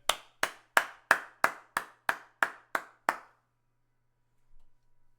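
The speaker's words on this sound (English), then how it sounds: "Hey, clap it up, Dan." A single person clapping hands close by, about ten sharp, evenly spaced claps in a steady rhythm, then silence apart from a faint rustle near the end.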